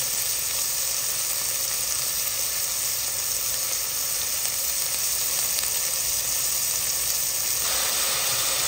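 Sardines sizzle in a pan sautéed with tomato and bottle gourd, a steady, dense frying hiss running unbroken throughout.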